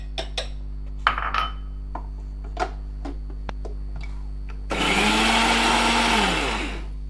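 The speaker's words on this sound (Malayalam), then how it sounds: "ഞാനൊന്ന് ക്രഷ് ചെയ്തിട്ടാണ് ചേർക്കണത്." A kitchen blender whirs loudly for a couple of seconds crushing grated coconut for ragi ada, preceded by scattered clicks and clinks of utensils over a steady low hum.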